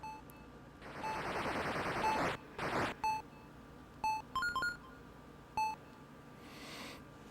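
Electronic beeps from the Atari 2600 game BMX Airmaster as a timed event runs out: a long sustained tone, then a string of short, loud beeps at irregular intervals over a steady background hum.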